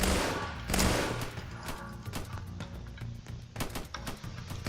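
Bursts of video game gunfire crack out in rapid volleys, sharp repeated shots rising and falling in loudness over a few seconds.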